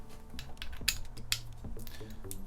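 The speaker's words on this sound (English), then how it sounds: "These actually install right here on the front of the shifter bracket using these little screws right here." Small Allen screws are turned into the front of a Dark MatterX DM-1 shifter bracket, making light, close metallic clicks and ratcheting ticks. A couple of sharper taps stand out against faint mechanical rattling, and no one speaks.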